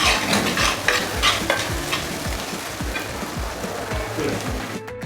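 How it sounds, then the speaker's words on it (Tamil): Chopped small onions sizzle steadily in hot oil while a utensil repeatedly scrapes and stirs the pan, close and continuous. "பொடியாக நறுக்கின சின்ன வெங்காயத்தை இந்த நேரத்தில் ஆட் பண்ணிக்கங்க"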